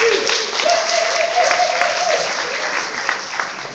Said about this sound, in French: Est-ce qu'on peut applaudir très fort pour elle?